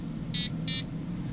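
An electronic buzzer on an accelerometer-based anti-theft circuit built on a Stellaris LaunchPad board sounds two short, shrill beeps in quick succession over a quiet background hum.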